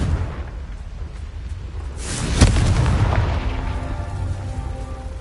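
A Confringo fire spell bursts in Hogwarts Legacy, a single loud booming explosion that swells and rumbles on over ambient game sound.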